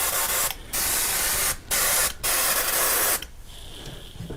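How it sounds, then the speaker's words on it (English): An airbrush sprays paint in several hissing bursts of about half a second to a second and a half, separated by brief silent gaps, close and fairly loud, with a quieter hiss trailing off at the end. "You never believe that I just cleaned this airbrush."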